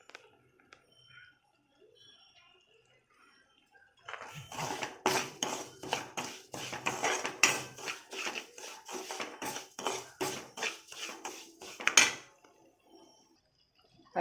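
Semolina (rava) is roasted in a pan over low gas, heard as close, rhythmic scraping and clinking strokes of a spoon against the pan, starting after a quiet opening and running steadily for about eight seconds.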